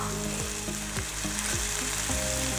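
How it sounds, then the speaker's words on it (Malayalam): Carrots and beans tossed into a hot pan for vegetable biryani hiss with a steady close sizzle, broken by several sharp bursts as pieces hit the oil and get stirred, with no voice. "ഇനി നമുക്ക് എടുത്തു വെച്ച പച്ചക്കറി ചേർത്ത് കൊടുക്കാം. ക്യാരറ്റ് ചേർക്കാം, അതുപോലെ തന്നെ ബീൻസ് ചേർക്കാം,"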